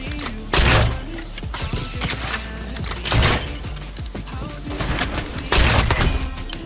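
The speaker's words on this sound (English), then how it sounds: "Oh, got a little explosive bow for him," Explosive bow shots in Fortnite go off as three heavy booming blasts spaced a couple of seconds apart, with thuds and game clatter between them.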